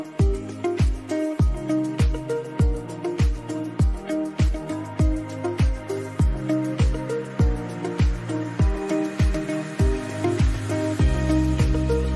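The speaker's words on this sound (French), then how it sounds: "c'est vrai que là il pleut" Rain falls in the Monteverde cloud forest of Costa Rica, heard up close as a steady, rhythmic pattern of heavy drips striking a surface, with no talking.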